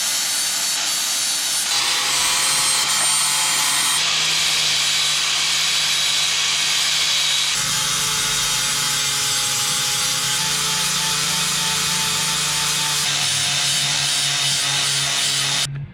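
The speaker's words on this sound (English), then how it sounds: "Get the grinder out" An angle grinder cuts steel plate for brackets on a 1985 Suzuki GSX-R slabside streetfighter in a home workshop, a loud continuous whine running nonstop with pitch shifts as the cut changes, and no talking.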